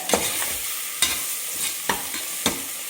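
Spices and ginger garlic paste stirred in a frying pan for a chicken banana leaf biryani, with a steady sizzle broken by four or five sharp scrapes and knocks of a spoon against the pan at irregular intervals, close and clear.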